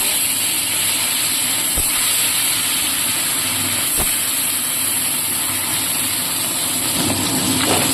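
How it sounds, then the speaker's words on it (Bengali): Fish seasoned with salt and turmeric sizzle in hot oil, a steady, dense crackling hiss that stays loud throughout, with a few soft clicks and taps from the pan. "এবার আমি মাছগুলো এক এক করে ভেজে নেব।"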